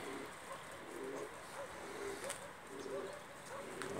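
Pigeons coo softly in a repeated low rhythmic call, several phrases over a steady ambient hiss, fairly faint and close by.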